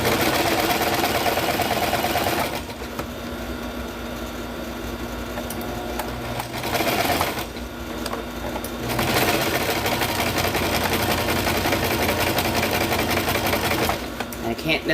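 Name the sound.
sewing machine stitching with contrast color thread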